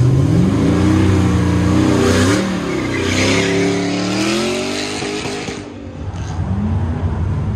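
A Datsun 280Z with a swapped LS V8 engine runs an autocross course, its loud, close V8 revving hard and shifting pitch through quick gear changes, with some tire noise as it turns.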